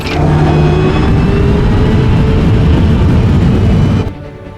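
A fighter jet engine starts for takeoff, a loud, dense, sustained roar that holds steady and then drops away abruptly near the end.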